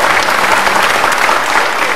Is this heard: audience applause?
yes